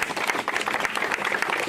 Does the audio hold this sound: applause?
yes